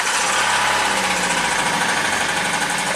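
A 2008 Suzuki SX4 engine running rough with low power, a steady, loud mechanical drone with an uneven idle throughout, no voices.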